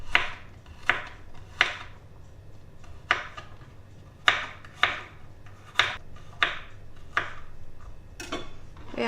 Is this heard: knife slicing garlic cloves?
yes